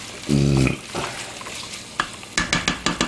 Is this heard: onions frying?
yes